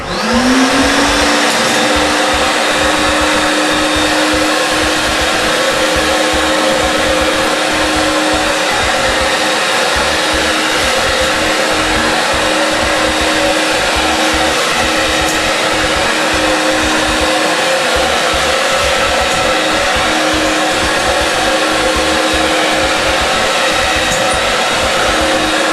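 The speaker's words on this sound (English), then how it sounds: "we're going to suck up the remaining slurry" A wet vacuum's steady, loud motor whine with a constant hum sucks marble polishing slurry off a floor, running continuously without pause and with no talking.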